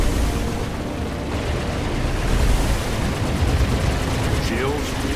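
Continuous heavy gunfire pounds a spaceship's shields in Star Citizen, a dense roaring barrage with rumbling impacts and a brief electronic tone near the end.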